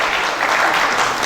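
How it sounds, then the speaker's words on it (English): A brief burst of sustained audience applause for a university Vice Chancellor at a Fulbright regional workshop, even and continuous throughout. "Please, let's once again clap for our Vice Chancellor."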